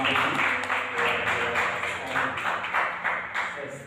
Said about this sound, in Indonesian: Boleh berikan tepuk tangan buat tim kita malam ini